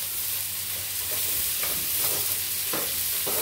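Garlic and onion sizzle steadily in hot oil for an Australian lamb biryani, a close, continuous frying hiss broken by a few soft stirring knocks.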